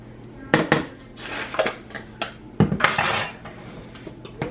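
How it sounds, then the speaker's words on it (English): Minced garlic being spooned into a dish for garlic bread, with a series of sharp metal clinks and taps of a spoon against the dish, some close and bright, spaced irregularly. "I'm just taking some minced garlic, putting it in here."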